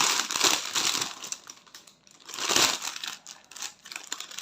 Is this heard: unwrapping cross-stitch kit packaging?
yes